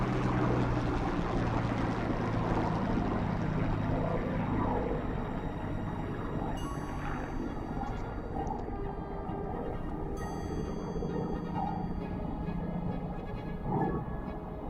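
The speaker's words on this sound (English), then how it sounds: "Let's listen to LF363's Merlin engine." A Hawker Hurricane, LF363, passes overhead during a Remembrance Day 2021 display, its Merlin engine a steady, broad droning roar that holds for the whole stretch and fades slightly toward the end.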